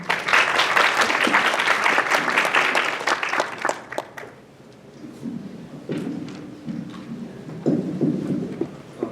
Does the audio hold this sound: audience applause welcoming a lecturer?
yes